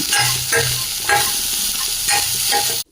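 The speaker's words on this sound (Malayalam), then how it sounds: "ജസ്റ്റ് കളർ ഒന്ന് ചെറുതായിട്ടൊന്ന് മാറി കിട്ടാൻ വേണ്ടി ഒന്ന് ഇളക്കി കൊടുക്കാം" Chilli powder being stirred into a hot frying pan of a home-cooked lunch dish, a steady sizzle broken by repeated scraping stir strokes, close and alone with no talk.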